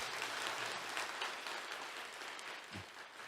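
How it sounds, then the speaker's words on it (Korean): Congregation applauding during a Sunday morning church service, a continuous faint round of clapping heard from a distance. "우리 하나님께 영광의 박수를 올려드리도록 하겠습니다"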